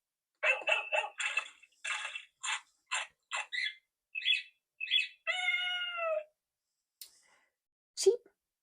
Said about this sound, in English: Cheep goes the parakeet.